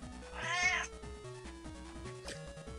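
A single drawn-out cat meow sounds close and clear, laid over steady, stepping video game background music that continues after the cry ends.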